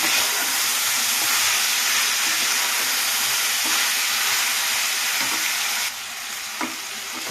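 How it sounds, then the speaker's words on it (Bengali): Fish curry with potato and drumstick sizzles and hisses steadily in a pan as chilli powder is stirred in, with a few clacks of the spoon, continuous and close. "অল্প সামান্য লঙ্কা গুঁড়ো দিয়ে আবারও নাড়িয়ে চাড়িয়ে নেবো"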